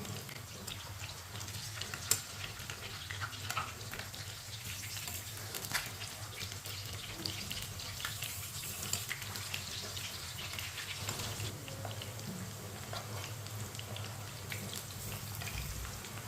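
Chapli kebabs cook in a pan, giving a steady, even frying hiss that stays unbroken for the whole stretch, fairly close, with no voices.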